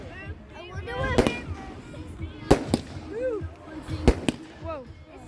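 Fireworks burst in several sharp broadband bangs about a second or more apart, with whistling crackle trails between them, under voices talking and exclaiming nearby.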